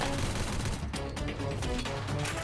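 Dense, continuous gunfire from the Crisis Action shooter game rattles through a boss fight, close and loud, with rapid overlapping shots and no clear gaps.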